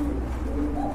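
Domestic pigeons kept in a breeder's loft for sale coo softly and steadily, their low, repeated calls running continuously over a quiet background with no one talking.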